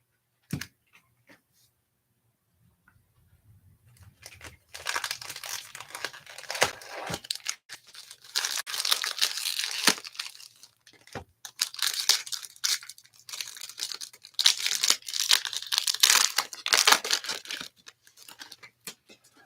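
Trading card packs with sticky glue being torn open by hand, starting quiet and then bursts of close crinkling and ripping foil wrappers with short pauses between them.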